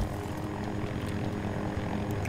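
Aircraft engine noise from the video game Battlefield 2042 roars as a fighter jet passes overhead, a dense, steady rumble filling the whole span at high loudness with no speech over it.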